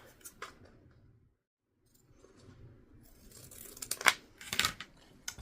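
Scissors cutting through fabric during a sewing mod, a few quiet snips and crisp slicing bursts near the end after a soft, mostly hushed stretch with faint handling noise.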